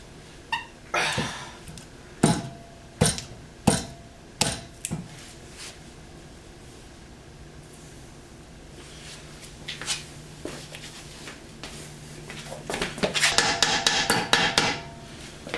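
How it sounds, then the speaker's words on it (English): Sharp metallic hammer taps, about eight evenly spaced strikes up close, tapping a poly bushing into place on a BMW E30, followed by quieter scraping and knocking of parts being handled. "I'm just going to tap this guy in with a hammer"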